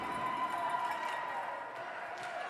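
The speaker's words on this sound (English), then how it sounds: "And listen to this crowd." Spectators at a youth under-9 ice hockey game, a broad, steady arena crowd murmur with faint cheering, heard at a distance under the noise.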